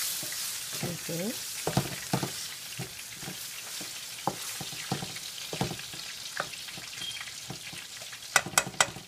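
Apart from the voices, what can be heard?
sauce frying in a pan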